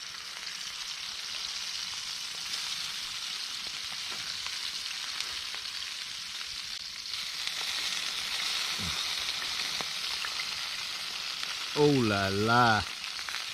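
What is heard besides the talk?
steak, mushrooms and burgers frying in bacon fat over campfire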